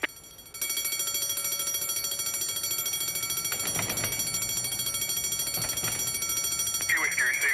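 An alarm bell rings continuously at a Presto supermarket on Putney High Street, a loud, steady metallic ringing that persists throughout with brief bursts of other noise over it.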